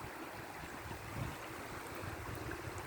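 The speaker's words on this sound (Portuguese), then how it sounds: "Desce muita água" Heavy runoff from a quick, hard afternoon rain pours down an unpaved dirt street in Rondônia, a steady close rushing and splashing of water that runs on without a break and with no voices.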